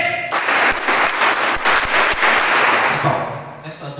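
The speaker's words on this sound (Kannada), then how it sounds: "ಚಪ್ಪಾಳೆ ಹೇಗಿರ್ಬೇಕಂದ್ರೆ 1 2 1 2 3 ರೆಡಿ" A school class clapping together on cue, a loud, close burst of many hands striking in near-unison that fades out over about three seconds.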